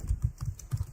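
Typing a git log command on a computer keyboard, a quick run of about eight close, soft key taps in an even rhythm, with no talking.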